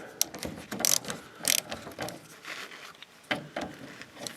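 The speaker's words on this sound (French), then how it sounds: "je vais quand même tenter de défaire la durite d'essence" A hand tool works loose an old, unlubricated fuel hose fitting on a Citroën Traction, with close clicking ratchet-like strokes and metallic scrapes in uneven bursts over a few seconds, no talking.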